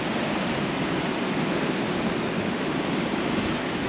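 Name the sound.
ocean waves on the coastline near Venus Bay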